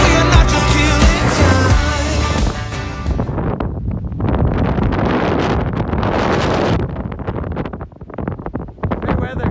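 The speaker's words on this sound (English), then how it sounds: "that's windy up here" Strong mountain wind roars and buffets the microphone during a snowstorm overlanding trip, loud and continuous gusting that takes over after a few seconds of music at the start.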